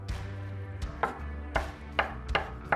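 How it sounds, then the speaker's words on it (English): A knife dices cooked chicken sharply on a cutting board, six or seven crisp strikes in an uneven rhythm, close by, over a low background hum. "Now, dice the chicken."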